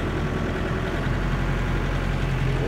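Micro tractor engine with a hydraulic dump bed running steadily as a little throttle is applied, a continuous low rumbling drone close by with no clear rise in pitch.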